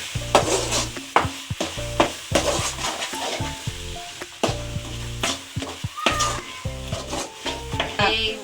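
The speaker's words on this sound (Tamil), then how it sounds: "அப்புறமா மீன் மசாலா, ஆச்சி மீன் மசாலா, கொஞ்சம் நல்லா வதக்கிக்கலாம்." Aachi fish masala with turmeric sautéing in a pan for meen kulambu, loud bursts of sizzling punctuated by repeated metal spoon scrapes and clanks as the mixture is stirred, with no talk.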